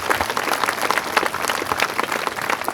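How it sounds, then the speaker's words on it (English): Applause from a crowd at an outdoor community walk for suicide prevention, a brief burst of steady, fairly loud clapping with no talk over it. "give everyone a round of applause just for being here"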